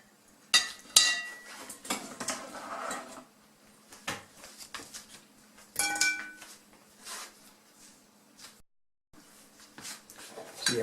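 Aerated flour is mixed into cardamom bread dough with a utensil in a bowl, giving close, irregular clinks, scrapes and knocks against the dish, with a brief silent gap near the end.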